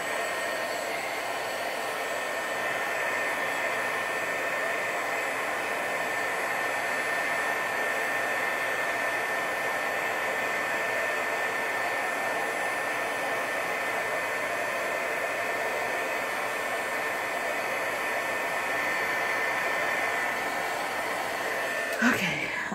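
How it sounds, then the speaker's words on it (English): A heat embossing tool blows hot air over drying card pieces in a steady, continuous whoosh that runs loud and unbroken throughout, with a brief knock near the end. "let's just get them all with the heat tool real quick so we don't spread anything"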